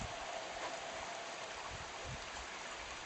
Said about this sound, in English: You want to thank God for the rain?